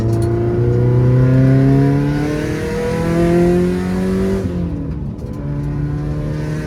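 A 2015 Subaru WRX STI, Stage 2+ tuned with an external wastegate, accelerates hard in third gear, its engine note climbing loudly and steadily for several seconds before a brief dip as revs fall, then pulling again.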